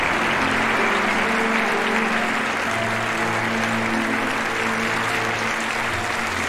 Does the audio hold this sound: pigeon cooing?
no